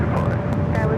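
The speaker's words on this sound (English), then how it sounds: "Viva Aerobus now rolling down at 24 left. It's taking off to Monterrey, Mexico, the A321neo." A Viva Aerobus Airbus A321neo rolls down runway 24 left at LAX on its takeoff run toward Monterrey, a steady broad jet roar heard at a distance.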